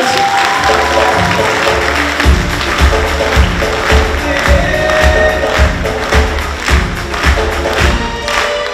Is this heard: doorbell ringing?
no